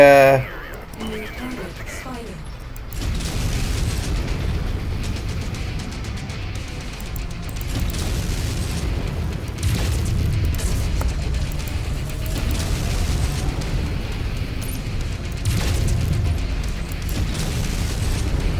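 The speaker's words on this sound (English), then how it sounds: "nothing quite like shooting half your missile load into the rocks" Missiles slamming into rocks in MechWarrior 5: Mercenaries, a string of muffled booms and rumbling impacts spread across a steady low roar of battle, with voices talking over them.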